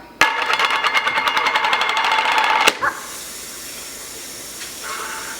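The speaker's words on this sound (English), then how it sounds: "Let me rinse this jar out." Tap water runs loudly into a glass jar being rinsed at a kitchen sink, a steady close rush for a couple of seconds that cuts off abruptly, leaving quiet room noise.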